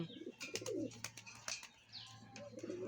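Pigeons in a backyard loft coo in soft, repeated low throaty calls, fairly close, with a few light chirps and rustles around them.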